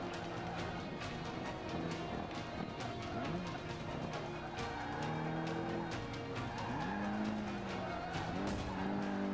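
A car is driven in Forza Motorsport 5 with a steady engine drone whose pitch rises and falls through gear changes, and tires squeal and skid at intervals throughout.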